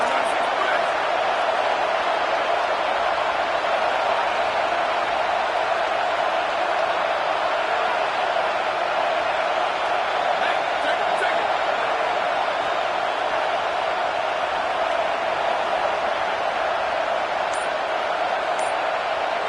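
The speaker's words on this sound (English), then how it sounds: "This crowd is trying to inspire this defense to make a big red zone stop." A college football stadium crowd at a Notre Dame versus Washington game roars in a constant, dense wall of noise as the defense tries for a red zone stop.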